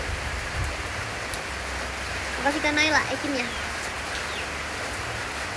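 Rain falls in a steady, soft hiss that continues throughout, while a voice speaks briefly over it midway.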